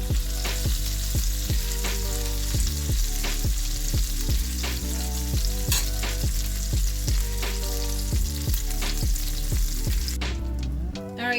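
Stuffed French toast, filled with strawberry cheesecake, fries in butter in a pan, a steady dense sizzle running throughout, with regular soft clicks and pops and a brief scrape near the end.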